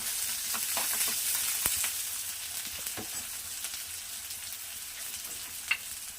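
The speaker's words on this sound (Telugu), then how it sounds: "ఆయిల్ హీట్ అయిన తర్వాత కొన్ని జీలకర్ర, ఆవాలు, కట్ చేసి పెట్టుకున్న ఆనియన్స్, కలుపుదామండి." Cumin, mustard seeds and chopped onions fry and crackle in hot oil, stirred with a spoon: a steady close sizzle with occasional small pops and scraping, no talk.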